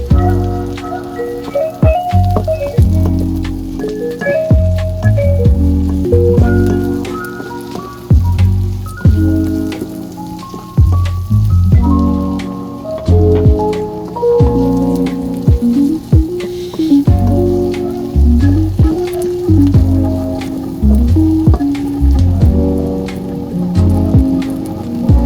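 Carrots stir-frying in hot oil for Filipino pansit canton, a loud continuous sizzle with occasional stirring scrapes, close up and steady throughout, no voices.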